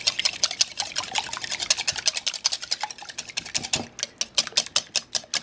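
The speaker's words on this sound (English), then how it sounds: "with the whisk, we're going to whisk this together until it's well incorporated" A whisk beating wet ingredients with vanilla for muffin batter, a fast steady run of rhythmic clicking strokes against a bowl, close and moderately quiet, slowing slightly near the end.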